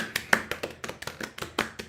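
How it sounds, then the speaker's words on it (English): A small online dance-event audience claps for a quiz winner, a sparse run of about a dozen sharp individual claps at an uneven rhythm, close to the microphone with no voices. "Okay, everyone, round of applause for Anne."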